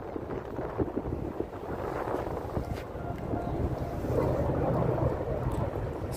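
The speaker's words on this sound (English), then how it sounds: "it's windy, especially here by the water" Wind gusts by the waterfront in Brooklyn Bridge Park rumble steadily against the microphone, a continuous low buffeting noise with faint background voices.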